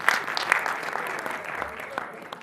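An audience in a hall at an award and musical show breaks into applause, a steady crowd clapping with voices and a few sharp whistles or cheers on top.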